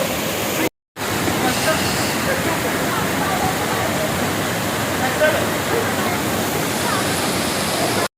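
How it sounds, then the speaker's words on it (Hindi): Umbrella Waterfall pours as a loud, dense, continuous roar of rushing water close by, cut by a brief dropout near the start before resuming unbroken. "ये जो वाटरफॉल है सिर्फ यहाँ तक ही नहीं है, बल्कि इसका सिलसिला ये अंदर काफ़ी दूर तक फैला हुआ है"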